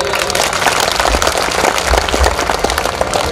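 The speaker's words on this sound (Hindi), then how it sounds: "राम निवास जी सीहोर, ताली बजाओ एक बार।" An audience claps at an Indian temple consecration ceremony for a mother goddess, a dense, loud burst of many hands clapping at once, with low rumbling thumps underneath.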